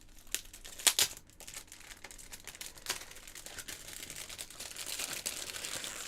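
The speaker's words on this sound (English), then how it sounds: "the next lot also came wrapped up, but in plastic this time rather than bubble wrap" Plastic wrapping crinkles and rustles close by as a parcel of games is opened, with sharp crackling bursts early on and then a steady, softer crinkle running to the end.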